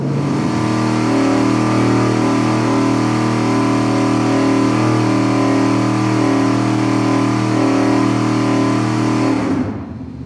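A car engine on a dyno is held steady at 4,700 RPM peak torque in a loud, continuous, even mechanical drone that runs for about nine seconds and then drops away abruptly as it is cut.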